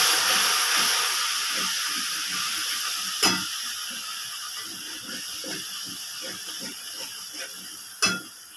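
Spice paste with turmeric frying in a pan for Bengali rui posto, a steady soft sizzle with occasional stirring scrapes and two sharp clanks.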